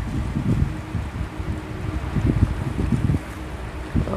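A fishing boat speeding at high throttle on the sea near Cà Ná, its engine a throbbing low rumble mixed with wind buffeting and splashing water.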